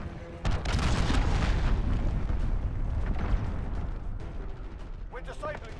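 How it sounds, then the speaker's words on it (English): An allied cruise missile strikes in a Modern Warfare multiplayer match, a heavy booming blast followed by a long rolling rumble, with other game noise and brief voice sounds near the end. "Allied cruise missile away."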